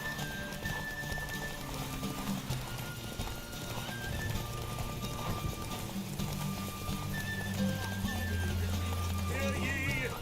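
Hoofbeats of a ridden horse galloping in The Witcher 3, a steady clip-clop with occasional whinnies, set against continuous game music and ambience at a derby race.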